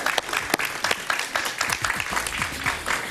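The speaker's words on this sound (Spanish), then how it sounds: "un aplauso para Rosa Townsend." A studio audience on a Spanish-language talk show applauds a guest, Rosa Townsend, with a burst of fairly sharp, uneven clapping that holds steady over a few seconds at moderate volume.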